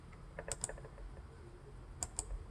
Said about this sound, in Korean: 여기서 키를 눌러서 왜 반응이 안 되지?